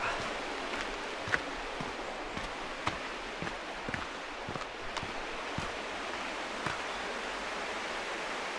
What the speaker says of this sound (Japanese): 沢の音が聞こえてます。